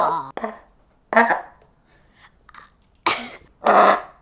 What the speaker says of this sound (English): it sounds like the monster's choking